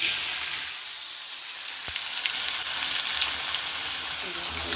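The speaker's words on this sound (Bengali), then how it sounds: "এখন আমি আলুটা ভাজবো" Potatoes fry in hot oil after tilapia fish, a continuous bright sizzle with a single sharp knock near the middle, steady and fairly close.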